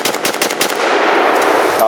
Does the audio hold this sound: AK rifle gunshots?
yes